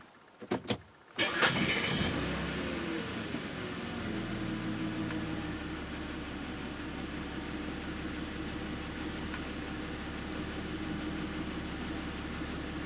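A car engine cranks briefly and catches after a throttle body cleaning, then settles into a steady, even idle that drones on close and alone with no talking.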